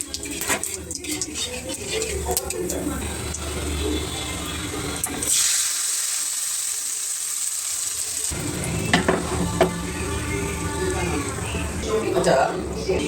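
Cumin seeds sizzle and crackle in hot mustard oil while being tempered for khichuri, with a loud frying hiss, a brief pause partway through, and stirring scrapes.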